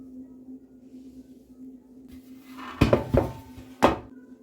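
A spoon mixes a thick muffin dough with chopped walnuts in a bowl. Soft stirring gives way to three sharp clinks and scrapes against the bowl, close and clear.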